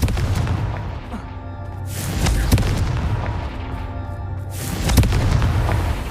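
The Confringo spell going off in the Hogwarts Legacy video game makes two loud booming explosions a few seconds apart, each one rolling out into a rumbling tail.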